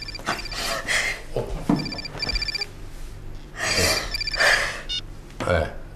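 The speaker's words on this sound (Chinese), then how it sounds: "你有电话" A telephone rings in a Chinese drama scene, repeated electronic ring bursts in a steady pattern, moderately loud, with voices and breathing around it.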